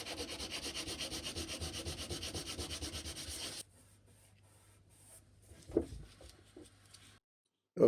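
Abrasive paper rubbing over hardened cyanoacrylate glue on a Trumpeter 1/200 scale HMS Hood model ship hull, a steady rhythmic back-and-forth scratching for several seconds that then stops, followed by a few faint knocks and handling sounds.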